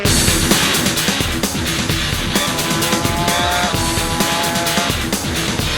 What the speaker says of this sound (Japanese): なんと金石勝友が痛恨のスピン